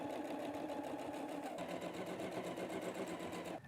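Close, continuous whirring of a sewing machine stitching quilt pieces into rows, the needle pulsing in a fast even rhythm for a few seconds with no voices.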